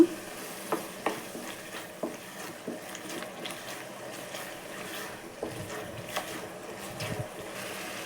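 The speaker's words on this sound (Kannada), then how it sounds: "ಈರುಳ್ಳಿದು ಸ್ವಲ್ಪ ಹಸಿ ಸ್ಮೆಲ್ ಹೋಗೋವರೆಗೂ ಫ್ರೈ ಮಾಡ್ಕೊಳ್ಳೋಣ" Onion paste fries with ginger garlic paste in a pan, a soft, steady sizzle broken by repeated sharp scrapes and taps of stirring, close and moderately quiet, with no talking.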